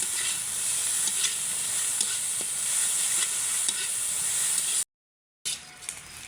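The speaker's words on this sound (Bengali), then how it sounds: "আমার কিন্তু চান্দা মাছগুলো ভাজা হয়ে গেছে" Chanda fish frying crisp in plenty of hot oil, a steady bright sizzle with occasional stirring scrapes, close and continuous, briefly cut to silence near the end before resuming.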